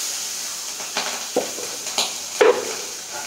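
Green chillies frying in hot oil, with a steady soft sizzle broken by a few light clinks and scrapes as they are stirred in the pan.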